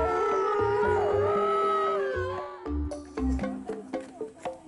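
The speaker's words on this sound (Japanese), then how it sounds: "日が暮れ始め涼しい風が吹くと狼が一斉に吠え始めました。" A pack of wolves howls together at a zoo at dusk on Asahiyama in Hokkaido, long overlapping wavering howls rising and sliding over each other, then breaking into shorter yelps and barks toward the end.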